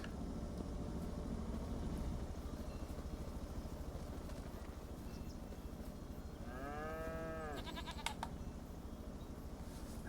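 A goat bleats once in the Farming Simulator 25 game, a wavering, fairly clear call over a steady low engine-like hum, followed by a few faint clicks.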